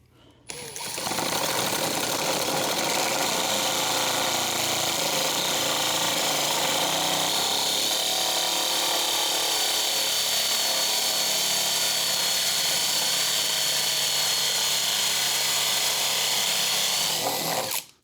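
A steady, high-pitched whine of a Star-M countersink drill bit boring into wood runs for most of the clip. It starts and stops abruptly, loud and close.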